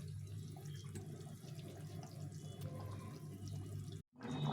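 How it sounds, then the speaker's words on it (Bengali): Water from a tap pours steadily into a pot while a rohu fish curry cooks in a home kitchen, a continuous close splashing flow that cuts off briefly near the end before resuming. "জলটা দিয়ে দেবো"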